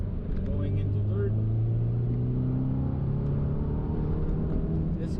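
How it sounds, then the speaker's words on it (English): An Audi TT MK2 8J engine pulls through a corner and shifts into third gear, a low droning rumble with rising and falling tones heard from inside the car under continuous road noise. "Now shifting into third gear for this corner."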